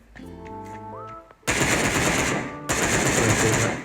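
Rapid automatic gunfire from a robot in the mobile shooter game Sausage Man, two loud sustained bursts at close range following a short stretch of game music and tones, with no talking.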